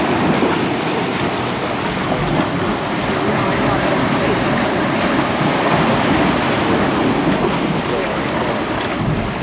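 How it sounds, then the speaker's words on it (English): A Yellowstone hot spring near the mud volcano gives off a loud, steady rushing hiss and roar, like churning water and venting steam, constant throughout with no talking. "Now listen to that spring."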